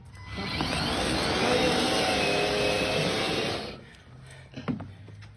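A Ryobi cordless snow shovel runs with a loud, whirring motor drone for about three and a half seconds, then cuts off, leaving a few faint scrapes and knocks outdoors.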